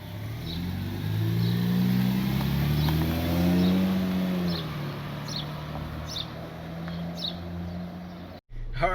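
A car on a test drive gives a steady engine and road rumble from inside the cabin, with a muffled voice and a few faint high chirps over it.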